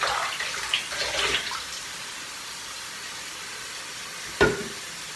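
Running water splashes while a face is washed before shaving: a few short bursts of splashing early on, then a quiet stretch, and one sharp knock near the end.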